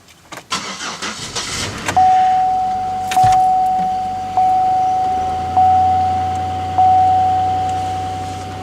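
A car engine cranks and fires on a cold start at 2 degrees outside, catching into a loud idle. A whining tone then steps up in repeated surges before it settles into a steady running hum.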